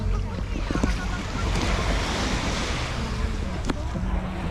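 Ocean surf rolls steadily at Dadonghai Beach in Sanya on Hainan Island, a continuous broad wash with wind buffeting the microphone and a couple of brief knocks on top.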